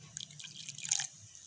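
A little water is added to a thick sugar syrup for mal pura batter, and it comes through as quiet, close drips and small splashes in quick succession.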